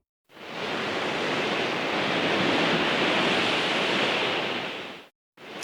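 Wind noise built through sound design without synthesizers: a broad, steady rushing hiss that swells in, holds evenly for several seconds, then cuts off abruptly, with a brief restart at the end.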